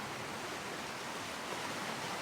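Ocean waves wash around a rock on a beach at sunrise, making a steady, broad rushing hiss of foamy water with no voices.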